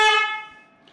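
A loud new car horn fitted to a Volkswagen Jetta 6 gives one short, bright, tonal blast, close and strong, then fades away with nothing else heard.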